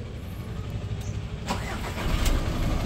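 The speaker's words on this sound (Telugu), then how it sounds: "సింగిల్ సెల్ఫ్కి ఇంజన్ స్టార్ట్ అయిపోయిందండి" A Volkswagen Vento Highline 1.6 TDI diesel engine cranks and catches, its low rumble building into a steady idle that sounds close and fairly loud, with no talk over it.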